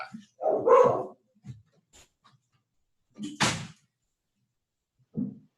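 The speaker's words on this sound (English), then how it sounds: "my dog barks" A dog barks a few scattered times, a short burst near the start and another sharp bark later, with quiet gaps between, in a home setting during an online meeting.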